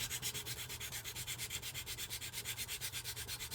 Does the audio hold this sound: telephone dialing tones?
no